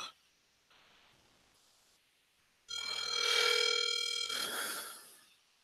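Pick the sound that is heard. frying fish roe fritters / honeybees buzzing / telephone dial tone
telephone dial tone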